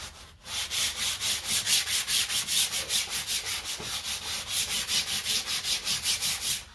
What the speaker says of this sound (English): If I sand it too much, I'm going to end up sanding the raised design more than I sand the recessed portion of the design.